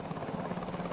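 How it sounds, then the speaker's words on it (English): Helicopter flying, a steady rotor thrum with rhythmic low pulsing at moderate distance, brief and continuous with no talk. "Helicopters, rather than parachutes or gliders, could deliver forces deep behind enemy lines."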